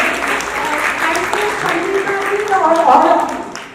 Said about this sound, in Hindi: इस जज्बे को बहुत बहुत एक बार तालियों से नवाजिए।